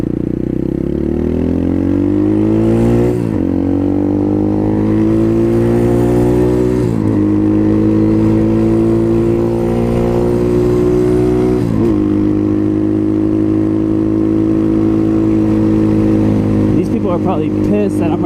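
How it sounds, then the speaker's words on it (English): A 2019 Apollo 250cc dirt bike engine drones loud and close, climbing in pitch through several gear shifts as it accelerates, with a rider talking over it. "I'm riding a dirt bike"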